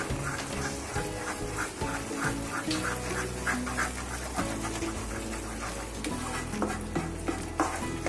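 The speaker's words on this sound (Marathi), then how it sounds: "आता अजिबात कढईला लागता कामा नये, पटापट हलवायचं" A thick gram flour and coconut barfi mixture is stirred briskly in a pan, scraping and sizzling repeatedly, with louder tonal sounds from a television or voices in the background.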